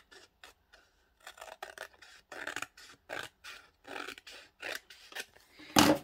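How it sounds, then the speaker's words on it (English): Scissors snip through paper while trimming pieces for an altered book, a run of short crisp cuts in irregular bursts, close and fairly quiet, ending on one louder snip. "So you just gotta watch me cut."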